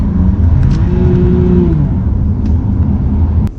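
A BMW M4 CS on Pilot Sport Cup 2 tyres accelerates, its loud engine note rising and then easing into a steady roar, heard close and continuous with no talk.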